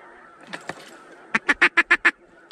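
Ducks call out during a waterfowl hunt, a few scattered quacks followed by a loud, rapid run of six evenly spaced calls close by.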